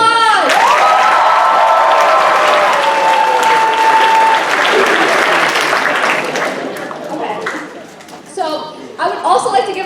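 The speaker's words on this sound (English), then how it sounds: "So give yourselves a round of applause!" A high school show audience breaks into loud applause with cheers and whoops, the clapping dense and sustained before thinning out near the end as voices call out.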